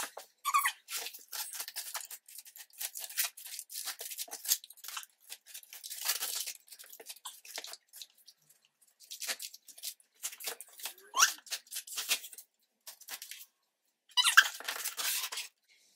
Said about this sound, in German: geht es heute um mein allererstes Avell-Päckchen und das möchte ich jetzt mit euch auspacken